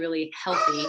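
Pet dogs in a home bark briefly and sharply, close by and mixed in with a person talking.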